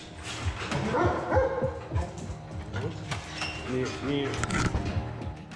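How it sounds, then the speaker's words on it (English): Guard dogs at Lepoglava prison in Croatia bark and yip in short irregular bursts, moderately close, mixed with metallic clinks and someone talking over them. "The dogs are trained to snatch anything and anyone that crosses their path."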